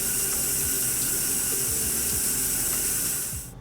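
A bathroom tap running steadily while a baby's face is washed, a close, loud hiss of flowing water that fades slightly at the end, with no voices.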